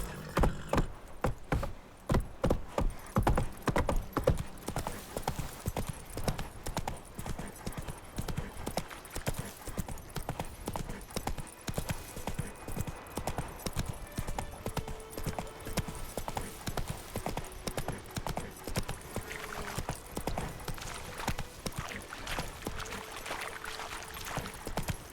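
A horse gallops in The Witcher 3, its hooves giving a rapid, loud clip-clop at the start that settles into a steadier rhythmic trot, with faint tack jingling.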